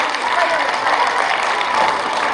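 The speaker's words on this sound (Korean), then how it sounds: "박수 부탁드립니다." An audience at a Gwangju Girls' High School alumni association general meeting applauds as a class group stands, giving a steady, moderately loud wash of clapping throughout.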